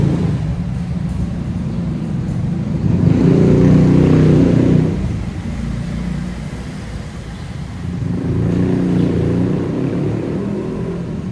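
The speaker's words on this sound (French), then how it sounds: "J'attends que la moto passe." A motorcycle passes by on a street in Thailand, its engine swelling to a loud roar, fading, then rising again as a second vehicle approaches, with no talk.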